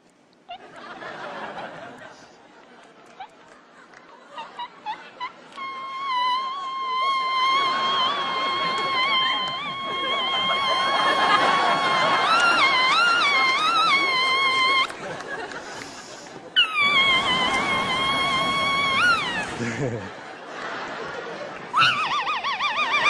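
A Swiss warbler novelty noisemaker, a mouth-held gimmick used by a comedy magician, warbles in a loud, bird-like trill in two bursts, over crowd laughter and chatter.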